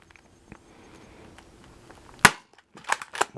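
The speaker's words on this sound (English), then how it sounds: "And we'll fire off 6 more." Dart Zone Pro MK 2.0 foam dart blaster with an XFox Games upgrade kit firing darts, a sharp crack followed by several quick snapping shots close by, with no talking.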